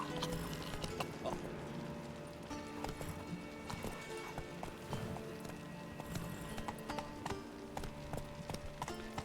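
Roach, Geralt's horse in The Witcher, gallops with steady rhythmic clip-clop hoofbeats over game music and ambience, close and continuous, with a brief whinny.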